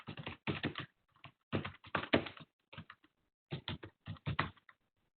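Clusters of crisp computer keyboard taps entering a value, arriving in short irregular bursts separated by silent pauses, close and clear with no talking.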